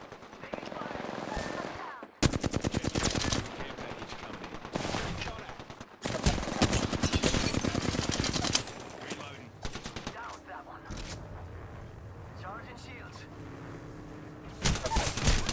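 Rapid automatic gunfire from the Apex Legends video game in arena mode, loud bursts of shots crackling in several sequences with brief pauses between them, while a player talks over parts of the action.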